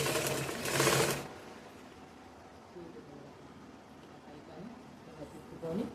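A sewing machine stitches the back part of a blouse lining, with a loud burst of whirring at the start and then quieter, intermittent stitching mixed with low background noise.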